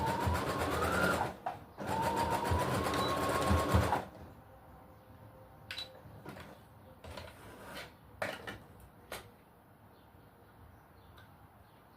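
A sewing machine runs in two fast bursts while stitching an elastic casing, then stops; afterward come scattered clicks and light handling noises near and clear.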